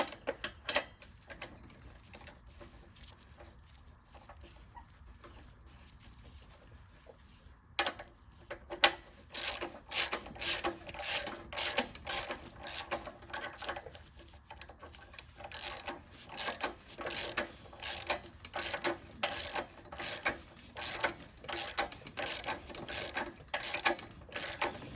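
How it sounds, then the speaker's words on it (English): A ratchet wrench tightens a spark plug on a power washer engine, first quiet fumbling, then a long run of rapid, evenly spaced ratcheting clicks, close and clear. "Once you know the threads are in, you can come back with your wrench."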